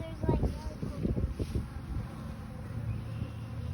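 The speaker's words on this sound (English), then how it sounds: "I see a bunch of bees in them" A dense, steady drone of honeybees around an open hive fills the background, with scattered low thumps and handling noise up close during a hive inspection; no clear talk over it.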